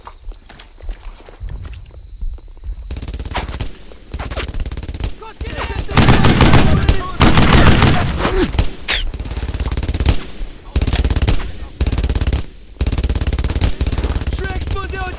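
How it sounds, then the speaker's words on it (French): Brothers in Arms: Earned in Blood, a World War II shooter, delivers bursts of rifle shots and rattling machine-gun fire in irregular clusters, loud and close, with footsteps and scattered battlefield noise between volleys. "Je suis exposé au tir ennemi ici!"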